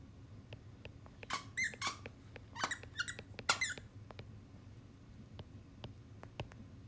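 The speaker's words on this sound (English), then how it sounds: "my dog has a squeak toy" A dog squeaks a squeak toy nearby, with bursts of rapid squeaks in quick clusters and scattered single squeaks over a quiet room hum.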